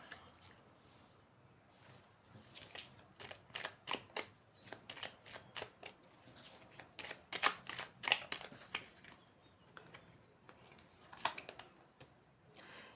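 Tarot cards shuffled and drawn by hand in a quiet room: a long run of crisp, close card riffles and flicks that come in bursts, with short pauses between them and no talking.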